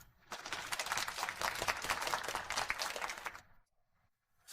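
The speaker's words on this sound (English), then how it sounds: "Let's give a round of applause as they take their seats." An audience claps in dense, steady applause for about three seconds before it cuts off abruptly, with no talk over it.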